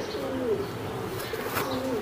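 A male grizzle racing pigeon coos softly and repeatedly at close range in a loft, its low throaty rolls rising over faint room noise.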